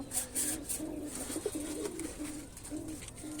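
Domestic pigeons, red Genda birds kept with their young, coo softly and repeatedly nearby in low, rolling phrases, with faint higher chirps of other birds in the background.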